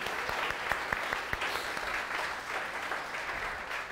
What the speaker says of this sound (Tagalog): Pwede ko ba marinig yung the best na palakpak ng mga papuntang langit?